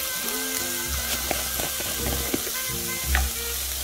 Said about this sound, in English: now I'm gonna put some garlic in here